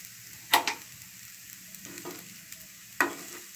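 Spatula scraping and stirring fried rice with pepper in a hot pan, three or four distinct scrapes over a quiet sizzle, close and fairly soft, with no voices.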